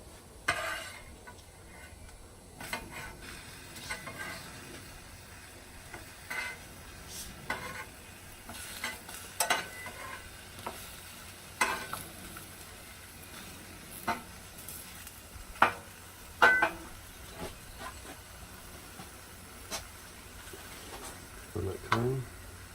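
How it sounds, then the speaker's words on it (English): Peppers sizzle softly on a Blackstone griddle, with intermittent scraping and clicking of a spatula as they are pushed around, quiet frying hiss beneath the sharper metal taps. "Move these peppers over a bit."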